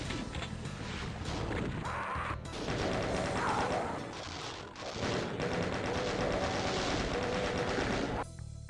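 Chaingunner enemy firing in Doom II, dense rapid bursts of gunfire with crashing impacts layered over game music, loud and continuous for most of the stretch before cutting off near the end.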